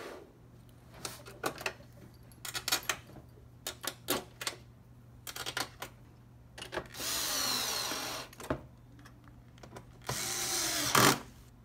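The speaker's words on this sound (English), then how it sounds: "I'm going to install the long green screws in" Long green screws being driven into an Xbox One S during a hard drive replacement repair, heard as short bursts of small power-driver whirring, then a few separate brief clicks and louder hissing scrapes, close and quiet with no talking.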